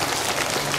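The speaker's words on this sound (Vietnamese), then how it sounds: "Xin cho một tràng pháo tay lớn hơn nữa." Crowd applause filling a hall at a Buddhist nun's dharma talk, a dense steady wash of many hands clapping together throughout the short moment.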